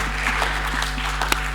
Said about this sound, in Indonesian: boleh kasih tepuk tangan saudara